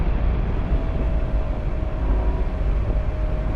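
A loud, steady engine drone with heavy low rumble and a faint whine from a Ferrari 812 GTS V12, cruising at constant speed, heard from inside the cabin.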